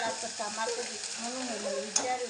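Tomatoes fry in a pan with a steady close sizzle and occasional stirring, plus one brief sharp clink near the end; no talking.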